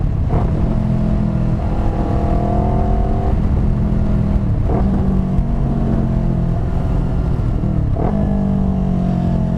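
A motorcycle engine revs repeatedly while rev-matching through gear changes, rising and falling in pitch several times with brief dips between, loud and close, with no talk.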